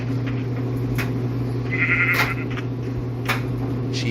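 Sheep in the Minecraft Bedrock Pocket Edition video game bleat several times over a steady low background hum, the calls short and clear with no talking over them.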